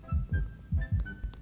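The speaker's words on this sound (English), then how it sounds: "Why are you having such heartbeat?" Heartbeat in the Roblox horror game Blair: deep, muffled paired thumps in a steady lub-dub rhythm, three pulses close and prominent over a faint hum.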